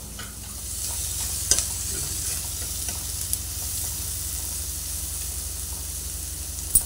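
Dried anchovies (nethallu) with turmeric fry in a pan with a steady, close sizzle, and a few light scrapes and clinks of stirring come through.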